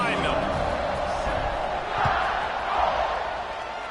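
A stadium crowd in the College Football 26 video game roaring before a kickoff, a broad sustained cheer swelling and easing in waves under a commentator's voice.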